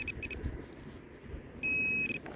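An XP Deus 2 metal detector sounds a sustained high electronic tone in a UK field, preceded by a couple of brief fainter beeps and ending in short stuttered pips, over low outdoor background rumble.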